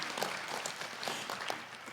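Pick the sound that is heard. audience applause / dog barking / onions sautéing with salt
audience applause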